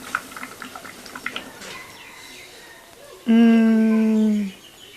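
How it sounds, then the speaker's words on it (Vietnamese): A rooster crows once, loud and close, in a sustained harmonic call lasting about a second. Softer chatter and scattered clicks come before it. "tiếng gà"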